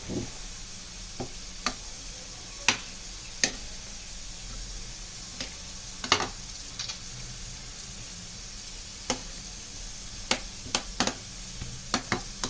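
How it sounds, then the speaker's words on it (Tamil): Mutton biryani being stirred in a pot, with sharp intermittent scrapes and clicks of a utensil against the metal over a steady, soft sizzling hiss; no talking. "எல்லா சைட்லேயும் கிளறி விட்டுக்குங்க"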